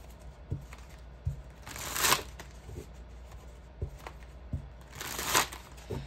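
Tarot cards being shuffled close up in two bursts of crisp riffling, with soft taps and handling knocks between them.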